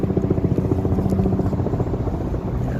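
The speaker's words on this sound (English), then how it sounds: "Hear the sounds of the helicopter in the water." A helicopter over water gives a steady, loud rotor drone with a rapid chopping pulse throughout.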